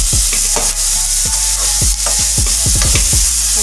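Vegetables seasoned with salt and pepper are stirred in a pan, a spatula scraping in a quick, irregular series of close, loud strokes over a steady sizzle.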